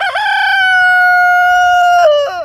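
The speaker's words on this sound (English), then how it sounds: "He has to put his crow in there." A loud, close rooster crow rings out among a flock of hens, one long sustained call that drops and breaks off at the end.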